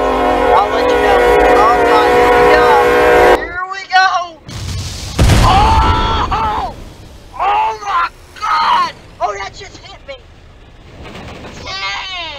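A fast-approaching oil train in the Roblox game Train Wrecker, with a long sustained horn blast, then a heavy boom and rumbling impact noises, with a voice talking excitedly in bursts between them.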